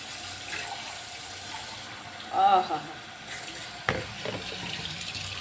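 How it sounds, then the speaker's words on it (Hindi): Cold water runs steadily from a tap as a continuous soft hiss, with a brief splash and a short exclamation from a woman partway through. "नल ठंडा पानी दे रहा है।"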